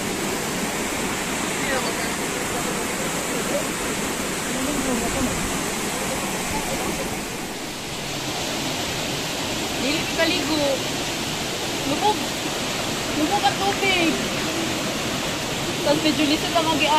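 Baco co Falls in Kapatagan, Davao del Sur pours in a steady, dense roar of rushing water that fills the whole clip at an even, close level with no clear breaks.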